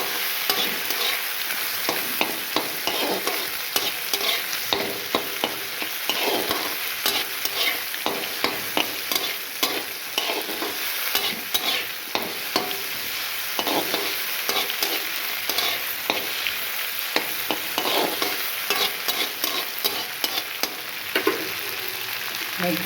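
Diamond-cut okra pieces fry in a pan for hotel-style masala okra sambar, with steady close sizzling broken by frequent scraping stir strokes throughout, no voices.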